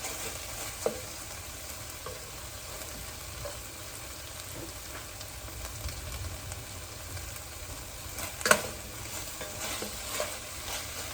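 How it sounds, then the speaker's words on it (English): Garlic and tomatoes sizzle in a pan with softened onions, a steady quiet frying hiss broken by a few stirring clicks and scrapes, with no voices. "So I'm going to go ahead and add in the garlic. I'm going to add in my tomatoes."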